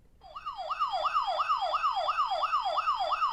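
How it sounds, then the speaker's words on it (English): A wailing siren rises and falls in steady, rapid cycles, loud and continuous, with no talking over it. "That was a siren."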